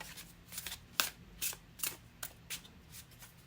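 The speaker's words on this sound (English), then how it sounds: "And let's shuffle with intention." Tarot cards being shuffled in a series of soft riffling bursts, about eight quick swishes, close and quiet with no voices.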